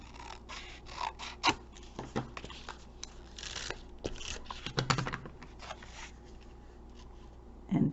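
Scissors trim a paper card at close range, giving a run of small snips and papery scrapes in uneven bursts, ending with a slightly louder cut, with no talking over it.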